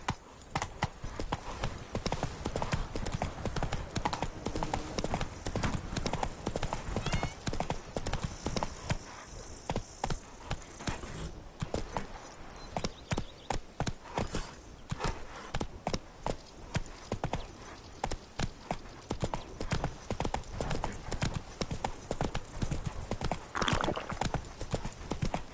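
Horse hooves clip-clop steadily at a walking-to-trotting pace on Roach, the horse in The Witcher 3 video game, a continuous rhythmic patter of close, moderately loud footfalls throughout.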